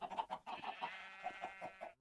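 Chickens in the Minecraft video game clucking in a quick run of short, overlapping calls, one drawn-out bleating note in the middle, fairly faint.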